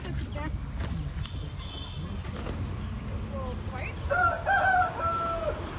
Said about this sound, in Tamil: இன்னைக்கு கோழி சண்டையை தான் பார்க்க போகிறோம்